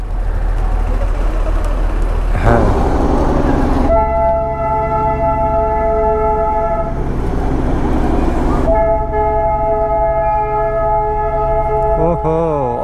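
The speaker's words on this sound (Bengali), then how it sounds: "স্টেশন থেকে টয় ট্রেন বেরোচ্ছে।" A toy train pulls out of the station at Kurseong with a constant heavy rumble. Two long, loud horn blasts sound in turn, and a third toot begins at the very end.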